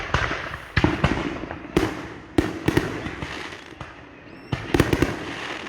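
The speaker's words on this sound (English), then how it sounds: "Yeah, we went to fireworks." Fireworks burst during a July 4th display, sharp cracking bangs arriving in irregular clusters over a crackling, rumbling background, fairly distant and loud, with no talking.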